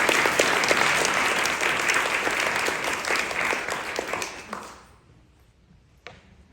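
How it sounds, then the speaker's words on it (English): Audience applause at a literary competition awards ceremony, a dense burst of clapping that fades out after about five seconds, followed by a single late clap. "Clap it up for Eric, everybody."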